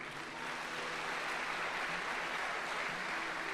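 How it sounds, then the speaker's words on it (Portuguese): A church congregation claps together during a Portuguese-language worship service, a dense, sustained wash of applause filling the room at an even level throughout. "Aplauda Jesus."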